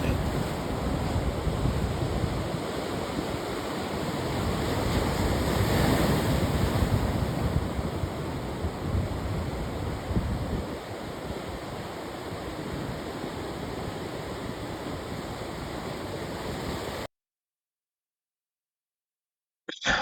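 Ocean waves rolling onto a beach in Lisbon, Portugal: a steady, full roar of surf with wind buffeting the microphone, then an abrupt drop to silence near the end.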